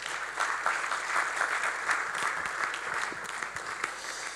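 An audience at a business conference applauds steadily, a dense wash of clapping that carries on throughout without voices over it.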